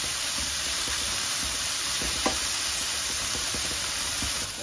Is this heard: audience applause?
no